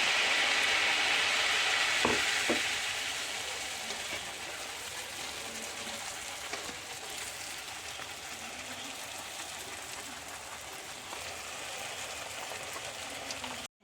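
Pappadavada fries in hot oil with a steady, close sizzle that starts louder and then settles into an even hiss, broken by a couple of faint clicks, with no talking.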